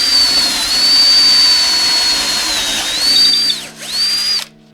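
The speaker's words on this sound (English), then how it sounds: "drill the rest of the way" A power drill finishes boring a hole through a Les Paul Junior guitar body with one loud, sustained high whine. The pitch dips twice near the end before the motor cuts off.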